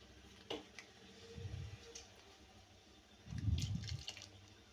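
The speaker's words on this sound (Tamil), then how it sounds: "அந்த புளியை மட்டும் இப்ப நம்ம கரைச்சதுல ஊத்திடலாம்" Soaked tamarind water poured into a pot of Tirunelveli-style sambar: two soft liquid pours, one brief and one longer, with faint drips and clinks around them.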